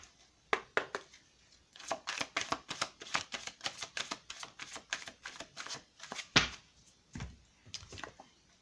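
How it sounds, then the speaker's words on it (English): Oracle cards are shuffled close up in quick riffling bursts, a run of rapid papery flicks with brief pauses and a few louder taps as the deck is handled. "we're going to pull some oracle cards"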